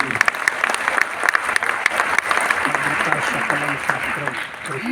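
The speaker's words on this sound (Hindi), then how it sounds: "इस सर्टिफिकेट के लिए एक बार ताली मेरे साथ बजाइए।" An audience at a student merit-day ceremony in Bihar claps together, a dense patter of many hands in a hall, with a voice speaking over the latter half of the applause.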